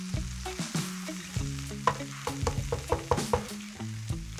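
Garlic, ginger and egg-and-mushroom dumpling filling frying in a pan, a close sizzle with repeated scraping and stirring clatters throughout.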